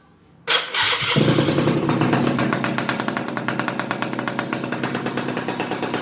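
A classic motorcycle starts after a moment of near silence, catching with a loud burst, then settles into a steady, rapid idle putter close by.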